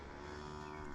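A Friesian cow on a Kenyan village farm gives a loud, close, sustained low moo filling the whole moment.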